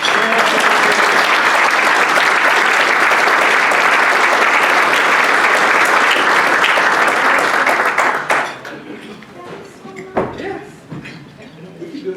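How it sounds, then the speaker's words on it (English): A Rotary meeting audience gives a sustained round of loud applause for about eight seconds, then the clapping abruptly dies away to scattered room noise and a few quieter sounds. "give her a round of applause for all the work she does"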